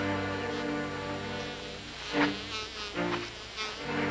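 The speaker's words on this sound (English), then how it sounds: "Them wasps could kill a man if they get mad." A swarm of wasps gives off a steady, close insect drone, with individual buzzes swelling and fading as they fly past the listener.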